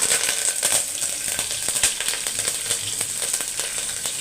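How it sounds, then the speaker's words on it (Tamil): Green chili and curry leaves frying in hot oil give off a loud, steady sizzle with bright crackling pops. The sound is close and continuous, and nobody talks over it. "எண்ணெய் காஞ்சிச்சு வாசம் வருது இப்போ இதை சேர்த்துக்கலாம் சேர்த்துட்டு ஒரு பச்சை மிளகாய் கொஞ்சம் கருவேப்பிலை"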